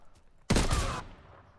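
Video game gunfire sounds as one sharp, loud burst of rapid shots lasting about half a second, then quickly fading.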